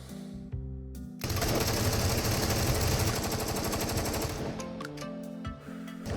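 AUG and M4 5.56 rifles fired in the video game Into the Radius: a dense, loud burst of rapid automatic fire lasting several seconds, framed by a few single shots and mechanical clicks before and after.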